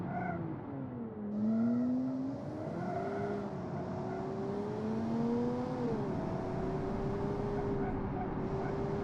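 A video-game car engine hums steadily with a rising and falling pitch as it revs and shifts, a continuous drone at moderate loudness.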